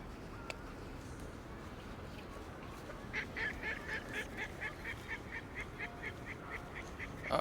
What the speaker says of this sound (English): Oh, the ducks.